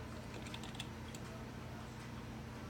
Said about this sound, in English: I typed in system restore